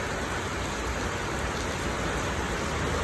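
Rain falls steadily in Riga, Latvia, a soft, even patter of drops hissing on surfaces, faint and unbroken throughout.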